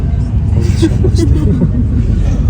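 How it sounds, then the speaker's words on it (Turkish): A bus rolls along the road toward Agadir, its engine rumbling low and steady with road noise and faint background chatter throughout. "Şimdi otobüse bindik. Ee, Agadir'e doğru gidiyoruz."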